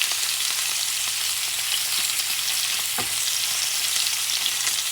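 A veal rib chop sizzles steadily in a hot pan with garlic, a continuous even frying hiss with a small clatter as the chop is turned, no talking.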